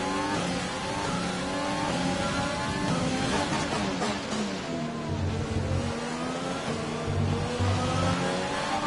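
A race car engine in a racing video game revs hard and climbs in pitch, then drops sharply as it shifts up a gear, skipping straight from fourth into sixth. The loud, continuous whine keeps rising and falling with each change.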